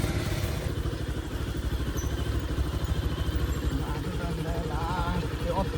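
A motorcycle engine idles and rumbles close by with a steady, throbbing low putter that holds through the whole stretch, with brief faint sounds overhead.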